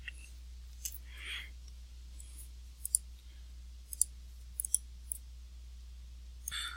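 A computer mouse clicks while selecting a cell in a spreadsheet pivot table, several soft, sharp clicks scattered irregularly over quiet background, close by.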